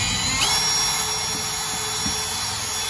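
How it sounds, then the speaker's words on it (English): Power drill boring out a bolt hole in a custom axe and shovel mount for a Chevrolet Colorado ZR2 truck, a loud steady high whine held for about three seconds, close up, with faint knocks underneath. "Okay, I gotta drill it out just a touch more."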